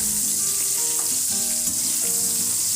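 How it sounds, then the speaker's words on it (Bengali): Potatoes frying in mustard oil in a kadai, with a steady loud sizzle and crackle running throughout and occasional soft scraping of a spatula. "আলুগুলো ভেজে নিচ্ছি প্রথমে লাল লাল করে।"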